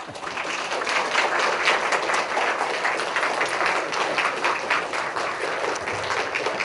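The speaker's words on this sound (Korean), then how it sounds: "환영하는 마음 같이 박수로 말씀드리겠습니다" A church congregation applauds to welcome its pastor back at a Sunday morning worship service. The clapping is steady, dense and sustained from start to finish, filling the room evenly.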